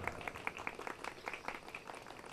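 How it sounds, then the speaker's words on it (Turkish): A congregation at a healing service applauds, dense overlapping clapping at moderate distance, fairly soft and continuous with a faint voice beneath. "Alkışlayın, evet."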